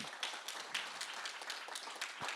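Steady, fairly faint applause from a crowd at a tech conference, a continuous patter of many hands clapping with no voices over it.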